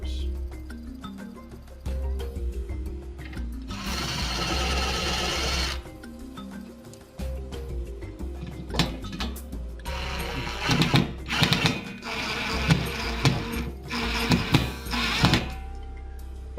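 Screws driven to mount a wall plate with a power driver, a few separate whirring bursts with pauses and clunks between them, close and moderately loud.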